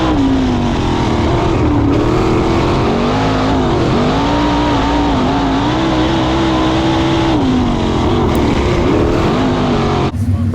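A 410 sprint car roars loudly at Paragon Speedway, its engine pitch dipping and wavering as it brakes down the straightaway, a close, continuous snarl.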